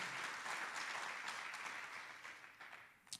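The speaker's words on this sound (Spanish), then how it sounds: "I want you to give an applause to our Lord Jesus." A church congregation applauds together, a steady wash of clapping that carries on for several seconds before tapering off near the end.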